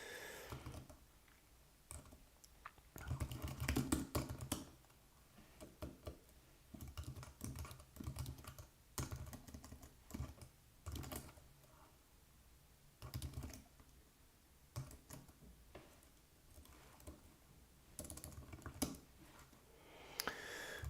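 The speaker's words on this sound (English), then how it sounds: "Apple keyboard." Fingers type on an Apple computer keyboard, a quiet, close patter of key clicks in irregular bursts and pauses that continues for a long stretch.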